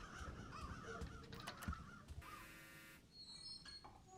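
Crows caw in a Roblox Doors game, a few harsh calls over a low steady background, moderately loud and then fading into a faint high twitter.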